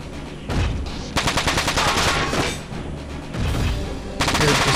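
Mech combat in the video game Front Mission 4 erupts with rapid bursts of automatic gunfire, loud, close and rhythmic, with heavy booming shots and a brief lull before firing resumes.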